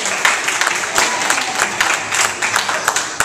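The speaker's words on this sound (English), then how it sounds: "Y'all give us a hand clap of praise in this place." Church congregation claps hands in praise at a gospel service, a dense, steady burst of many hands close by, with voices mixed in underneath.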